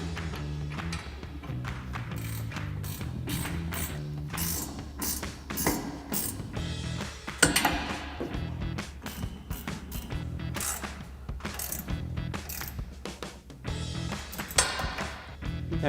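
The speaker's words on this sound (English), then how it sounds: "Now we can begin by tightening down those Allen head bolts with a 6mm Allen socket on a ratchet." A ratchet fitted with a 6mm Allen socket tightens Allen head bolts on a Dodge Ram 1500 sport bar, giving a steady, dense run of rapid clicking and mechanical ticking that continues for the whole stretch.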